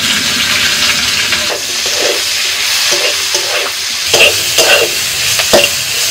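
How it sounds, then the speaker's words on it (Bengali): Onion and two kinds of capsicum frying in a pan for café-style pasta, a steady hissing sizzle with scraping stirs and a few sharper clatters toward the end. "পেঁয়াজ আর 2 রকমের ক্যাপসিকাম একবারে দিয়ে দিচ্ছি"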